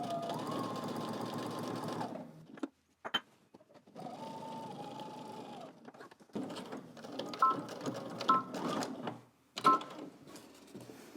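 Sewing machine stitching the fly of a pair of pants, several bursts of steady mechanical whirring a couple of seconds each, separated by brief pauses and small clicks, close and fairly loud.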